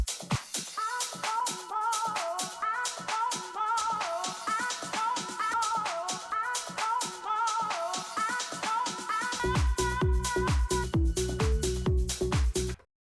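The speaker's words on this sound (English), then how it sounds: "if I press this first performance pad, I'm going to jump backwards 4 beats in the track" Music track played on a Pioneer FLX4 DJ controller while performance pads trigger beat jumps, loud electronic beat with abrupt skips and repeated fragments, ending in a heavy bass section before cutting off.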